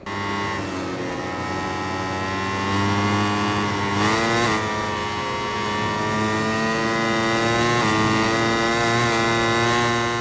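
Simulated motorcycle racing in MotoGP 21 on soft tyres: a loud, continuous high-revving engine whine runs throughout, with pitch rising and dropping sharply through gear changes and corners, heard alone with no talk.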